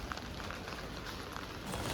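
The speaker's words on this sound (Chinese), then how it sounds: "今天又下雨了，难受啊！" Steady rain falling in Shenzhen during a prolonged downpour, a continuous soft hiss of drops on wet surfaces that stays even and fairly faint throughout, with no voices.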